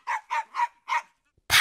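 A small dog barks four times in a quick, even rhythm, sharp and fairly close, followed by a short pause and then a louder, abrupt burst of noise at the end.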